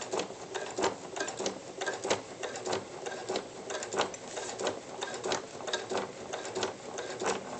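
A sewing machine stitches slowly along a straight line on a notebook cover, its needle thumping in a fast, steady rhythm close by, with no voices over it.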